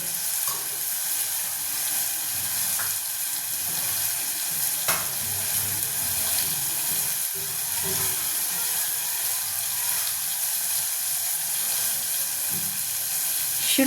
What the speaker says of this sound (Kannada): ನೋಡಿ ಈರುಳ್ಳಿ ಮತ್ತು ಟೊಮೊಟೊ ಮೆತ್ತಗೆ ಬೇಯ್ತಾ ಇದೆ